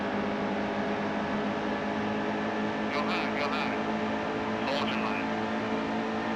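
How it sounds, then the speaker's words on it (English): A NASCAR race car engine drones in the NASCAR Heat 2 video game at Charlotte, a loud, steady high-pitched roar with brief bursts from nearby cars, under a voice talking. "I'm going to drive it into this corner a little harder than usual."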